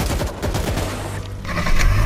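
Rapid bursts of shotgun and gunfire from a World War Z zombie shooter fill the scene, dense overlapping blasts with a low rumble, loud and continuous throughout.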